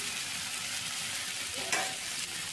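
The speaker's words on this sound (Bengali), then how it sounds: "এবার ভালো করে টমেটোটা এর সাথে কষিয়ে নেব।" Ginger, garlic and tomato fry in a pan, a steady close sizzle with soft stirring scrapes, swelling briefly in a louder burst partway through, with no one speaking.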